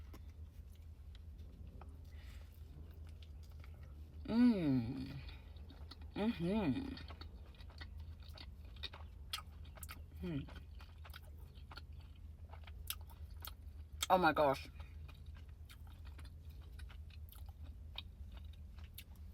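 Someone biting into a Taco Bell supreme Crunchwrap topped with salsa verde, with a few crisp crunching bites spread through a quiet stretch and a brief spoken exclamation between them.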